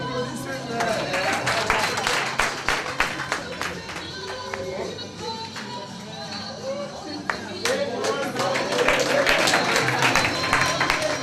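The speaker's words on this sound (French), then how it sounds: "Applaudissez-les." Guests at a civil wedding ceremony in a town hall break into sustained applause, a dense patter of clapping that carries through with voices talking over it.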